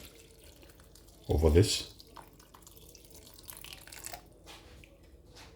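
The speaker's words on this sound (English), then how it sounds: "So I'm going to add about a cup of water" About a cup of water poured into a bowl of Jamaican salt fish fritter mix with chopped onion, a short, loud splashing pour lasting under a second, followed by quieter kitchen sounds and a voice speaking.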